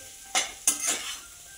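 Boiled small potatoes are tossed in a hot pan, with two quick scraping strokes that set off a brief rush of sizzling before fading to quiet.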